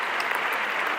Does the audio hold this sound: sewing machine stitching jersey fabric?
no